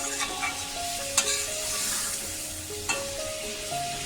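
A spiced masala gravy with egg, soy chunks and potato for biryani bubbles and sizzles loudly in a pan, a continuous close frying hiss with occasional sharp spatters and scrapes.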